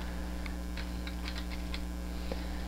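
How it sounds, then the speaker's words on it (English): Fast, irregular clicking of keys on a computer keyboard, a brief burst of light taps, near and fairly quiet over a steady background hum. "If I could type properly."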